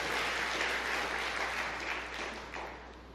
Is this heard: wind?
no